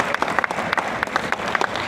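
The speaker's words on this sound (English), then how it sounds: "That applause can be much louder" An audience applauds at a film premiere evening, with brisk, close clapping and sharp individual claps standing out from the dense crowd sound, steady for the whole stretch.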